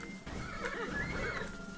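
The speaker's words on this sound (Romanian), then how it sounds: "Să mor tu că pot să călăresc calul." A horse in a simulator-style video game neighs with a loud, drawn-out whinny lasting over a second, standing out clearly with no talk over it.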